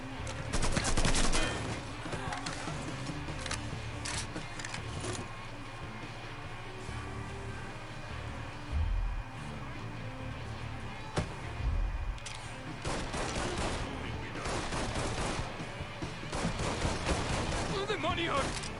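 Gunfire in the video game Mafia 3: repeated shot bursts and rattling volleys across the whole stretch, mixed with game noise, with people talking over it.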